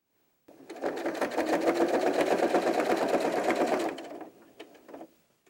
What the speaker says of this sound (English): we have to stitch all along the back right underneath the collar, and we're basically stitching down the seam allowance